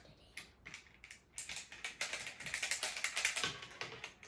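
A small keychain fidget toy clicked and tapped up close, with a quick run of crisp, light taps and clicks that starts sparse and grows into a dense, steady patter, fairly quiet and with no voice.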